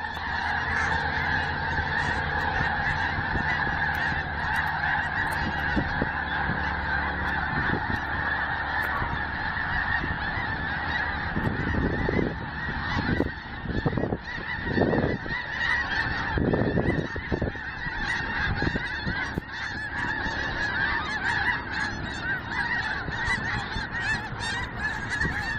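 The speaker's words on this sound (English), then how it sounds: "So these are the snow geese." A large flock of snow geese during autumn migration in late October, a dense, continuous chorus of overlapping honks and yelps that swells louder in the middle, heard from a road nearby.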